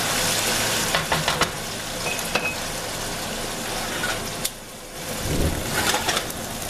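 About a cup of brandy heats over medium-high in a pasta pan while being stirred, giving a steady close sizzle with several sharp clicks and scrapes from the spoon. A softer lull comes near the end, and no one speaks.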